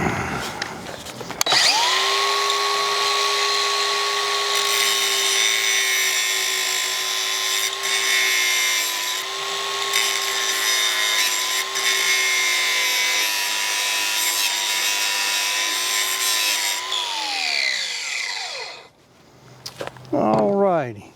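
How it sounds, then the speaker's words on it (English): An angle grinder grinds down a broken weld on metal with a sustained, steady high-pitched whine that holds for about fifteen seconds before spinning down, with brief clatter at the end. "That weld right there is broken on this side, so I'm going to grind that a little bit"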